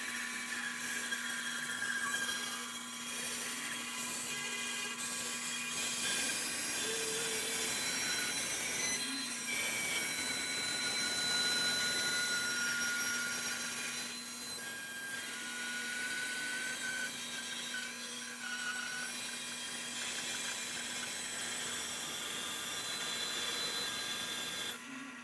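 A bandsaw runs continuously while cutting around a firewood bowl blank, a steady droning hum with a whining blade tone throughout.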